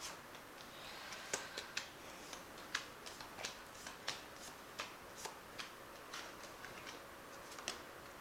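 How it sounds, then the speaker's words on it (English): A tarot deck is shuffled and cut by hand, giving soft papery riffles and irregular crisp card snaps over a quiet room hiss. "I'm just going to shuffle once and cut these cards."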